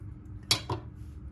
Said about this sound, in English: I know chopping a mandarin like this is pretty messed up